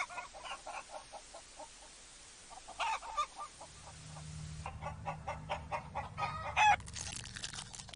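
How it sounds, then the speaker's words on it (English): Chickens cluck in a steady run of short, faint, evenly spaced notes, with denser clucking and a louder squawk later on, over a low background hum. "why can I hear the chickens clucking?"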